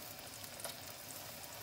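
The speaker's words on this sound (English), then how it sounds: "now the fish is ready to go into the frying pan" Striped bass sizzles steadily in hot oil in a frying pan, a dense, even crackle that stays close and constant without pause.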